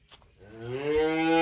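A cow at a cattle farm lets out a single long, rising moo that swells and holds loud and close, with no talk.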